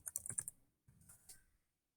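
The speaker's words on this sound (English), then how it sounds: "I'm going to type in Chicago Freedom Movement." Typing on a computer keyboard, a quick burst of close, light key clicks followed by a few more taps after a short pause, no talking.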